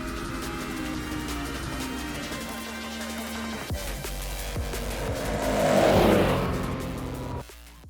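A new Segway Villain 4x4 side-by-side buggy drives fast, its engine droning steadily, then swelling louder as it nears and passes close by before cutting off abruptly.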